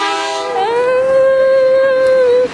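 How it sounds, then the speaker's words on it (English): A train horn blares nearby, a loud sustained tonal blast that rises slightly in pitch early on and then holds steady for about two seconds before cutting off. "Oh, that might be the train."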